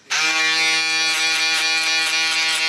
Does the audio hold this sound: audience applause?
no